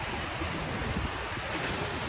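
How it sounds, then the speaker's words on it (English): Ocean surf crashes against dramatic rock formations on an Oahu beach, a steady dense broadband roar of breaking water, loud and close, with no voices. "the waves crashing against them added to the intensity"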